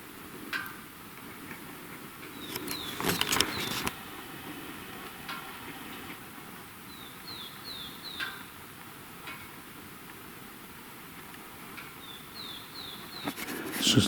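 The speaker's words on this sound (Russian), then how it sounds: "Еще и птички поют" Faint, short chirps from small birds in a frosty, sunny winter forest come now and then over a quiet hissing background, with a few louder rustles nearby.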